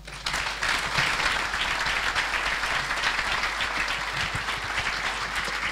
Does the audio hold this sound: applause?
yes